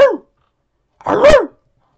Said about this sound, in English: This one is going to be a dog barking.